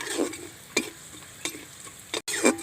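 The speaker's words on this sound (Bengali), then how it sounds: "এভাবে আমি ভালো করে নেড়েচেড়ে একটু ভেজে নেব।" White sesame seeds with chili flakes being stirred and fried in a pan over very low heat, soft sizzling under intermittent scraping strokes of the spoon, fairly quiet and close.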